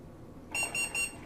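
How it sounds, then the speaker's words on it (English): Three short high-pitched electronic beeps from a sous vide cooker as it starts preheating, evenly spaced and clear over a quiet kitchen background. "You hear that beep? That means it is doing the preheat"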